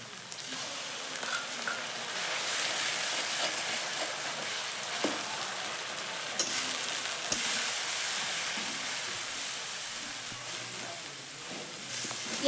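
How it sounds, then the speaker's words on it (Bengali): Onion, ginger and garlic fry in a pan, with two large onions in the mix. A continuous close sizzle runs throughout, with occasional light clinks and scrapes. "পেঁয়াজ রসুনটা ভালো করে ভাজিয়ে নিচ্ছি"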